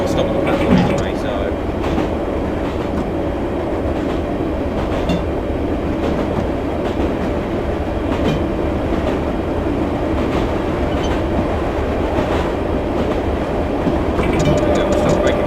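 A simulated train on the Virtual District route rolls along the rails with a loud steady rumble and occasional clicking wheel beats, heard throughout with faint talk mixed in.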